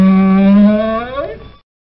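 A camel of the desert gives one loud, close, drawn-out groaning call that holds steady, then bends and fades away, followed by silence.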